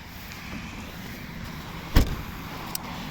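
A 2008 Mercedes B200 hatchback's boot is opened: a single sharp latch clunk stands out midway over quiet background hum, followed by a small click a moment later.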